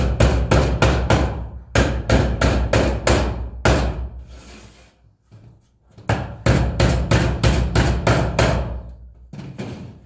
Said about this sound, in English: might have to pound on it a little bit to get it to go where you want it to go